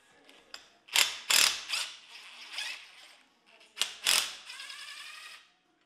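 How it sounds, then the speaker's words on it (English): A ratchet wrench is removing engine intake bolts in bursts of fast, loud clicking close by, with short pauses between the spells of turning and no voices. "I'm just gonna try and pull the 4 intake bolts off"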